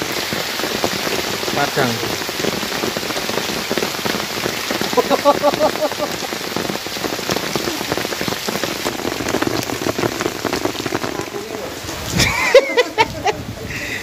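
Rain falls steadily on surfaces at an outdoor fishing spot, a dense patter of drops with occasional louder splashes, while someone talks now and then.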